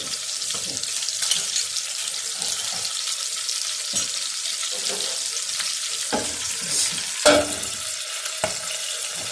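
Beef liver (kaleji) with yogurt steaming under a lid on a flat iron tawa gives a steady, close sizzling hiss, with a few soft clicks and knocks breaking through. No one speaks.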